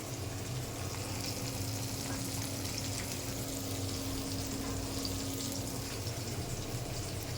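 Onion, garlic and ginger fry in hot oil in a wok, giving a continuous even hiss and crackle with a faint steady hum underneath and no pauses or voices.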